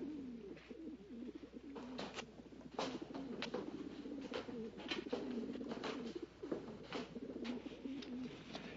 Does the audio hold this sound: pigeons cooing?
yes